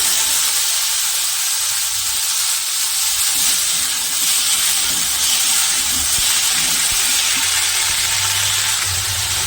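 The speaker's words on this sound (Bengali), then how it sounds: "এবার আমি দিয়ে দেবো কেটে রাখা সব সবজিগুলো" Chopped vegetables dropped into hot oil tempered with panch phoron for a Bengali shak ghonto, raising a loud, steady hiss and sizzle that holds close and unbroken throughout.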